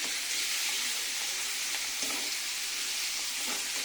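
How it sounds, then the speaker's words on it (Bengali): Meat being stir-fried with spices in a pan, a steady close sizzle and hiss with occasional stirring scrapes, continuous and without speech. "এবার সুন্দর করে মাংসটাকে মশলার সাথে কষিয়ে নেব"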